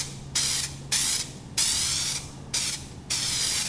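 Aerosol spray coating is dusted onto a Seadoo jet ski bar pad in five short, loud hissing bursts of about half a second each, separated by brief pauses.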